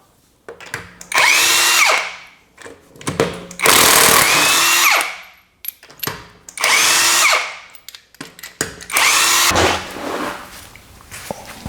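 Power tool with a 21mm socket loosening lug nuts on a Nissan Pathfinder rear wheel: four loud, close bursts of whirring and rattling, each a second or two long, separated by short pauses and clanks.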